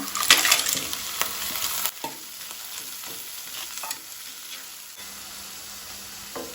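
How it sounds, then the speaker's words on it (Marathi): Clams tipped into a pan of fried onion and chilli for a Goan clam curry, sizzling loudly at first and then settling into a steady fry while a spoon stirs and scrapes through them, with no talk. "आता कांदो तळसून जालो, तातूंत हांव तिसऱ्यो घालता।"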